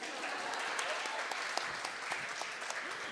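Clapping from an audience at a chamber of commerce livestream event, a steady moderate patter of many hands with a few sharper individual claps standing out.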